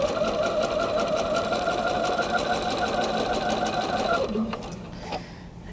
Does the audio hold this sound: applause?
no